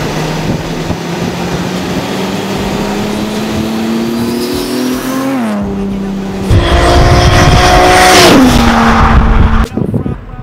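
A Toyota Supra race car drives hard, its engine climbing steadily in pitch through a gear, dipping at a shift, then surging louder and rising again before cutting off abruptly.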